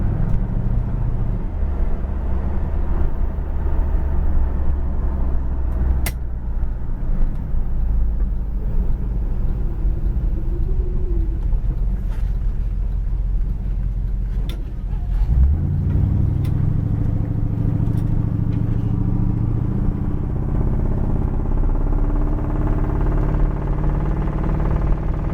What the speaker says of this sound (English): Car sounds great going down the highway.